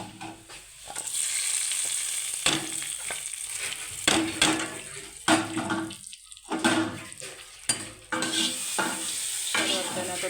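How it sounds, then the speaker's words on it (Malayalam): Curry poured into hot fried mustard seed tempering for a tapioca and okra dish, a loud burst of sizzling and bubbling followed by repeated stirring scrapes and crackle, close up with no talk. "നമുക്കിത് കടുക് വറുത്തതിനകത്തോട്ട് ഒഴിക്കാം"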